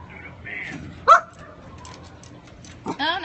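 A pet dog gives a couple of short yelping barks or whimpering howls, one sharp cry early and another toward the end, close by amid background sound outdoors during a backyard grilling session.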